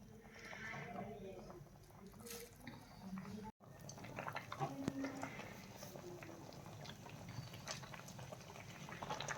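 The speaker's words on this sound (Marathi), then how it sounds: "तो आता आपल्याला गरम पाण्यामध्ये छान 2 ते 3 मिनिटे उकळून घ्यायचा आहे" Spinach leaves boiling in a pot of hot water for a palak puri, a steady low bubbling and simmering texture running throughout, with faint kitchen noise and a brief dropout partway.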